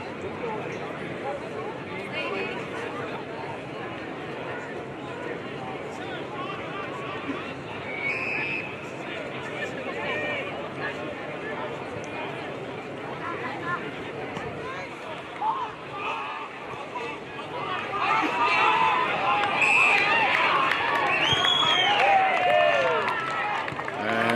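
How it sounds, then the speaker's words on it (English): Spectators murmur at a local cricket match between Colbo and Mounts, a soft, steady outdoor babble of distant voices that swells slightly toward the end. "I might just let you have a bit of crowd noise for a minute or two."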